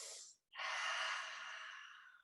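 Close, soft breathing during a yoga stretch: a brief airy inhale, a short pause, then a longer, steady exhale that slowly tapers off.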